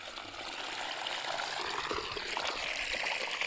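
Water pours steadily from a pipe fed by a motor pump in a farm field, a continuous close splashing rush with no talk.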